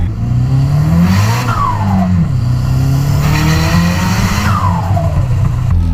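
A 200 BHP Toyota Starlet with a screamer pipe blips its engine, two sharp revs that rise and fall quickly over a steady idle, loud and close with no one talking.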